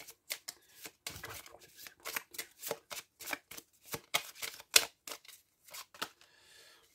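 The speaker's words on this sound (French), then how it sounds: "je vais tirer une carte" Tarot cards are shuffled and drawn by hand: a quiet, close run of quick papery flicks and riffles that ends with a single card being pulled.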